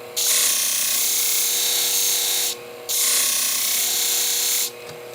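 Shears ground on a sharpening machine, a steady loud grinding hiss of steel on the wheel in two long passes separated by a brief pause, with no talk.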